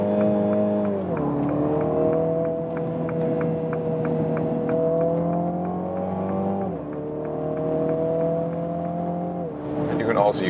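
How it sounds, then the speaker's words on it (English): A 2021 MINI Clubman John Cooper Works in sport mode, its engine droning steadily under acceleration, with two sharp gear shifts that briefly drop and then lift the revs. The drive runs loud and close inside the cabin. "in the sports mode here, everything's set to sport. You also have like a shifting punch then."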